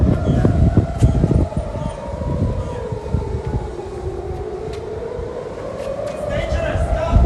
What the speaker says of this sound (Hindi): सायरन हर तरफ से बज रही है